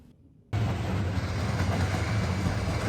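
A train running on the Shinonoi Line in Nagano, heard from a spot normally off limits, starts suddenly and then rolls on as a steady, close rumble with wheel clatter.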